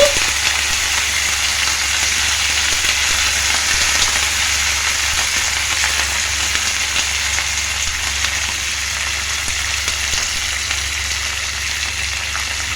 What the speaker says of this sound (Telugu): ఫ్రై అయ్యాక కట్ చేసుకున్న పచ్చిమిర్చి కరివేపాకు వేసుకుందాము